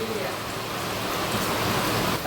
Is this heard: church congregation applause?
no